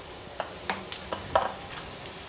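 Chopped bottle gourd soft-sizzling in a hot pan with a few light scraping stirs at irregular intervals, close by and fairly quiet.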